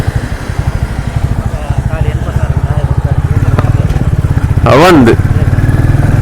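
A Bullet motorcycle engine idles with a steady, close thumping beat, slightly rising after a few seconds, while a person speaks briefly over it.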